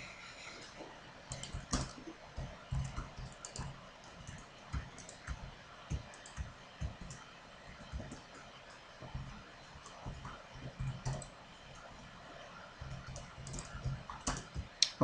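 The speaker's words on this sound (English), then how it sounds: "You're typing" Someone types on a computer keyboard during a Minecraft gaming session. Irregular bursts of soft, close key clicks continue throughout, quiet and with no speech over them.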